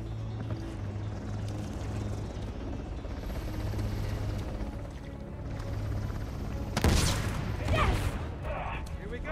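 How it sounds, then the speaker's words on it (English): Combat in the video game Uncharted: The Lost Legacy, with mechanical clanks and a whirring helicopter under the noise, then a sudden loud burst from an RPG shot near the end. "Grab the RPG. Shoot the helicopter one time."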